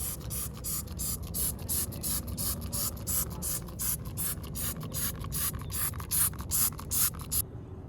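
A Salty Captain glass cleaner spray bottle fires a rapid series of short, crisp hissing sprays, roughly a dozen evenly spaced bursts, close and fairly loud.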